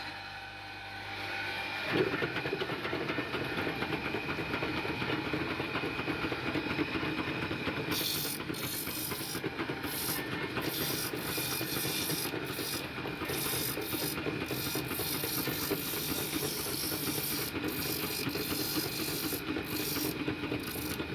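Two bamboo skewer sharpening machines whir continuously with a gritty rasping grind, steady and loud throughout after starting up, broken by brief periodic dips in the hiss.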